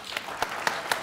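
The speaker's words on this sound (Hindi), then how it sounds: "तालियां बजाएं" A few scattered, evenly spaced hand claps from a studio audience at a televised talk show, brief and moderately loud.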